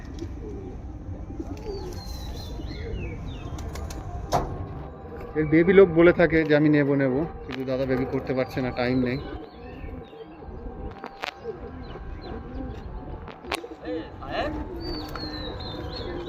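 Old-generation local pigeons coo in low, repeated bursts while someone talks nearby; brief sharp sounds may be wing flaps, and faint chirps sit in the background.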